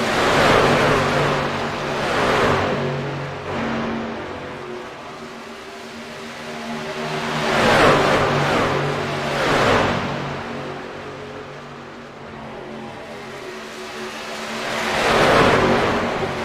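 Race cars lapping a track through traffic during a night speed-week race, engines swelling and fading in repeated passes, loud and near at the peaks with a continuous motor drone between them.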